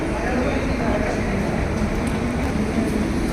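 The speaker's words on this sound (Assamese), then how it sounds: "এতিয়া মেট্ৰ' ষ্টেচনত আহি আছোঁ" Steady low rumble of a metro train at a platform in Guwahati, a constant dense roar with broadband hiss, close and fairly loud throughout.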